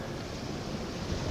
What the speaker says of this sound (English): Southwest swell started this morning.